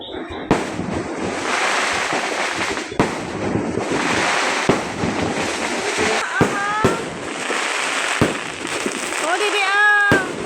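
New Year's Eve firecrackers and fireworks going off outdoors, a continuous crackling barrage broken by sharp louder bangs and whistling rockets, with people talking over the noise.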